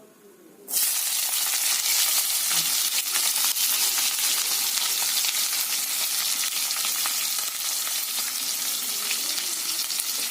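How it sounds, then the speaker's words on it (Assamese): Chopped onions drop into hot oil for pork curry, bursting into a loud, sustained sizzle that holds steady and close after a quiet start. "তেলটো গৰম হৈছে, এতিয়া আমি কাটি থোৱা পিঁয়াজখিনি দি দিম।"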